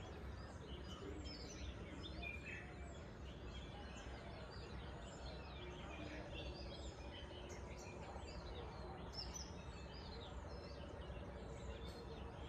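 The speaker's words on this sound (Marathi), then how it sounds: "10 सेकंद आपण शांत राहू आणि पक्ष्यांचा किलबिलाट ऐकू फक्त." Birds chirp and call from morning greenery around a countryside home stay in Alibag, many faint scattered tweets over a steady low background hum of insects and outdoor ambience, no voices.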